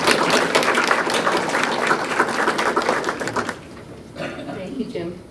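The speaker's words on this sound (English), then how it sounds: "Give her a round of applause" Applause from the audience at a spring grant celebration, dense steady clapping filling the room for several seconds before fading out into quieter room sound.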